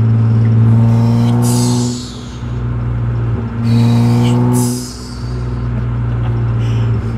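Naturally aspirated 1996 BMW E36 engine with a swapped M50 intake manifold, revved twice, each rev rising to a loud, raspy whine before dropping back to a steady, rumbling idle.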